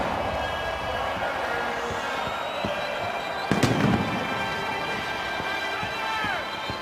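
Fireworks going off over the stadium after a 2010 NFL game, 49ers at Chargers, with one sharp loud bang among fainter distant pops above a steady crowd rumble.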